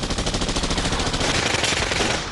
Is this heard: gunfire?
yes